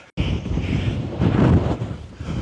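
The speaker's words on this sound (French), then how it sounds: "il y a beaucoup de vent ici aussi" Strong wind on a ridge in Ireland roars steadily across the microphone after a brief silent start, a loud continuous rushing buffet that swells midway.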